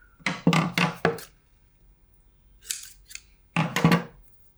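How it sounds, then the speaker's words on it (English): Scissors snip a piece of electric tape with a quick run of four crisp close cuts, a pause, a faint rustle, then another pair of snips. "First thing I like to do is I cut a piece of electric tape."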